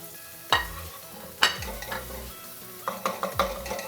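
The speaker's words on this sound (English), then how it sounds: "you wanna saute these up until they're nice and fragrant as well" Grated ginger and garlic with spices sautéed in a pan for a South Indian egg curry, with a few distinct stirring scrapes over a soft background sizzle, close and moderately loud.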